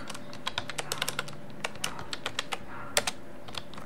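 Fingers tap rapidly on a computer keyboard, irregular clicky keystrokes close up with brief pauses between bursts.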